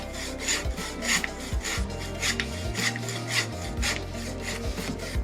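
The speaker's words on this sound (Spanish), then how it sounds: "voy a utilizar mejor un serrucho de metal para ir quitando mayor material" A metal hacksaw rasps through a plaster carving block, with steady back-and-forth strokes in a quick, even rhythm, close and loud, alone without talk.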